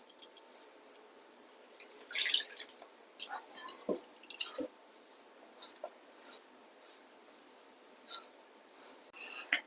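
Batter of date-palm jaggery and water being mixed by hand for kheer patisapta in a home kitchen, giving soft, intermittent squelching and light clicking stirring sounds, quiet and close, with gaps between strokes.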